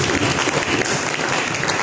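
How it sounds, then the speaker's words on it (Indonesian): Loud, dense applause from a congregation during a church service, a continuous close wash of clapping filling the whole short stretch. "Berikan tepuk tangan bagi Yesus"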